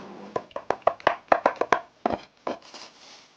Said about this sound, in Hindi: पीनट्स और फेवरेट नट्स क्रश कर लें।